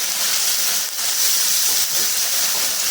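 Onion frying in a pan with ginger, garlic, cumin and dried chilli paste gives a steady, close, loud sizzle and hiss that runs unbroken for a few seconds, with no talking.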